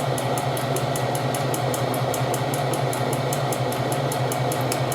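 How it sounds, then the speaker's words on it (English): A serger stitches and finishes the edges of fabric for a McCall's 8112 sewing project, running at a steady, fast mechanical rhythm with rapid regular ticking over a constant whirring hum, close and continuous. "I have a serger, so I always serge whatever I sew"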